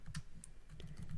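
Light, quiet computer keyboard typing, a short run of soft clicking keystrokes close by with no one talking.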